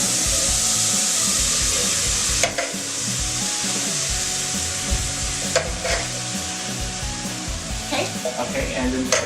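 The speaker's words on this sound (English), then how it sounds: "just put a little bit of butter then in the pan, and we'll put the corn in." Corn sizzles steadily in melted butter in a hot pan, a loud continuous frying hiss broken by a few sharp clinks and stirring scrapes, with a voice talking briefly.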